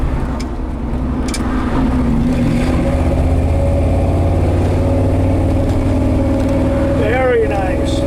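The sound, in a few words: 1968 Ford F250 truck driving, engine accelerating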